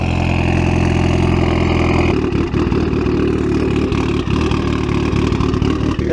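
Loud engine of a freshly finished Mazda FD RX7 running on E85, idling steadily with a deep, continuous rumble close by, then a slight change in pitch and texture partway through, no voices over it.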